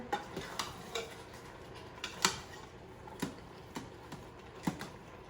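Stew of green beans and venison sausage being stirred in a pot, giving a handful of soft, scattered clinks and scrapes spread over several seconds, faint and close with no talking.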